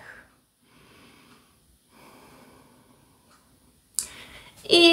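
Audible breathing during a Slavic gymnastics workout, quiet drawn-out inhales and exhales in a few soft waves, ending in a sharper snort and a louder breathy burst near the end.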